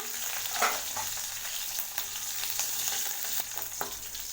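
Mustard seeds, cumin, chopped green chillies and curry leaves fry in hot oil, giving a continuous close sizzle with crackles and a few scraping stirs.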